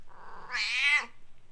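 A single drawn-out cat meow, close and clear, rising then falling in pitch over about half a second, with quiet surroundings before and after.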